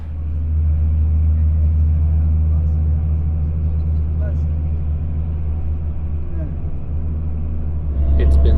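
Inside a bus travelling from Rabat to Fes in Morocco, a heavy, steady low engine and road rumble drones throughout, with a brief rise in noise at the very end.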